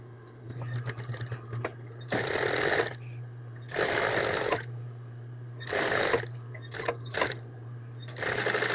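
A sewing machine stitches a hem on a terry cloth towel in several loud, rapid bursts of back-and-forth stitching, separated by short pauses in which a steady low hum and small handling clicks remain.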